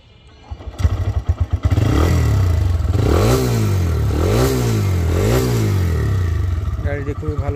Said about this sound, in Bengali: গাড়িটি স্টার্টে আছে, খুবই স্মুথ সাউন্ড, অরিজিনালে যা থাকে তাই।